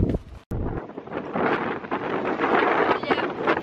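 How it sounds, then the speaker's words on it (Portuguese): Strong wind buffets the microphone at a roadside stop, a continuous rough roar with gusty surges and a brief dropout near the start. "Olha o vento, meu senhor amado."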